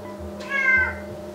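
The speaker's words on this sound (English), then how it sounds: "I've got a cat down here begging for more" A single short, clear meow from a cat close by, over a quiet background hum.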